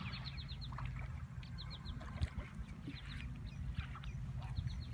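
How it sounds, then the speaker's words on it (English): A goose at a pond honks in short repeated bursts of three or four calls, with further birds calling softly over a low rumbling background. "Sorry, Goosey Goose."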